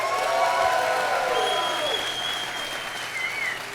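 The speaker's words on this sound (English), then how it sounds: "If you believe the Republican primary is for all intents and purposes over," A crowd at a political rally applauds loudly and continuously, with some cheering and whistles rising through the steady clapping.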